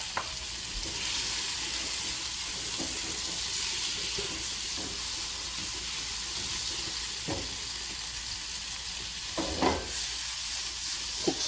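Chopped tomato for a spinach and cheese quiche cooking down in a hot pan, a loud, steady sizzle and hiss that carries on throughout, with a few clatters from stirring near the end.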